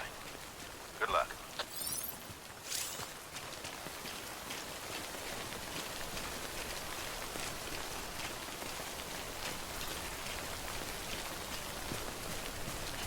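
Steady rain falls in the video game Death Stranding, a soft, even hiss of drops on surfaces that lasts throughout, with a few brief louder taps near the start.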